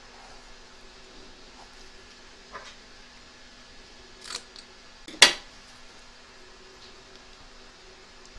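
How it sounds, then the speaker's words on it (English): Scissors snip away excess appliqué fabric around pocket edges on an embroidery hoop project, a few quiet cuts ending in one sharper, louder snip amid near silence. "Trim away the excess fabric from around the edge of the pockets."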